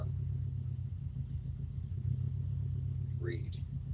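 An engine holds a steady RPM during damper testing, a constant low rumbling drone at even pitch, close and unbroken, with a short rising whine near the end.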